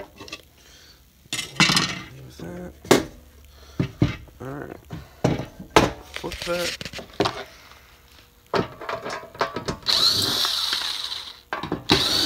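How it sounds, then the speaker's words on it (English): Screws being removed from an OBD1 Honda ECU with a power tool, short bursts of whirring driver noise alternating with clinks of metal parts and pauses, with a person talking in between. "start removing all these screws"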